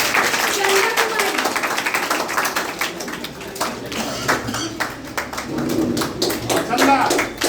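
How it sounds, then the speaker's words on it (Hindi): Audience applause at a memorial anniversary event for a freedom fighter, steady clapping from a crowd lasting throughout, with a voice announcing names over it through a loudspeaker. "तालियां बजती रहनी चाहिए।"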